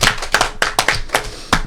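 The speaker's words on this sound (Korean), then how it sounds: "우리 박수 한번 칩시다" A few people in a Korean television talk studio clap briefly and unevenly, a handful of sharp, close hand claps spaced irregularly with no voices over them.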